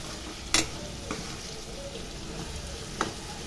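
Vegetables and potatoes frying on low gas for veg brinji make a constant dense sizzle, broken by a couple of sharp spatula clinks against the pan.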